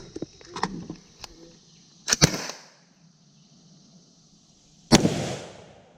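Sidearm gunshots at an outdoor shooting drill ring out as sharp, loud cracks, with a few lighter pops early, a close double shot near two seconds and one more crack near five seconds, each trailing a short echo.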